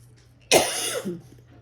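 A single sharp, close cough breaking out of a quiet background, followed by a brief rough throaty tail.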